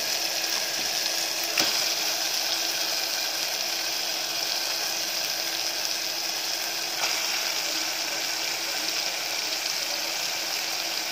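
Mutton hits a frying masala of tomato, onion, and ginger-garlic paste, giving an even, loud sizzling hiss that stays steady for several seconds, broken by a couple of faint clicks.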